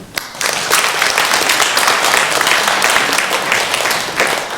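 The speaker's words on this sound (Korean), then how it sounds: "하나님께 영광의 박수를." Congregation applause at a Sunday church worship service, dense and steady clapping from a full room that starts abruptly and holds for several seconds with no voice over it.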